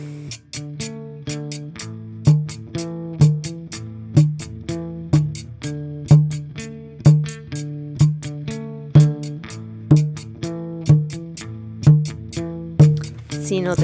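Llamador drum in a cumbia pattern, a steady run of sharp hand strikes on the offbeat, loud and close, ringing alone with no voices.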